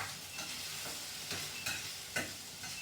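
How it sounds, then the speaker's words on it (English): Onions and peppers are stirred in a pan, giving a soft background sizzle broken by several sharp scraping strokes of the utensil at irregular intervals. "And just keep stirring as you go along,"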